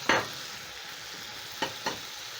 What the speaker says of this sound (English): Then I'm going to add my fish in my pan.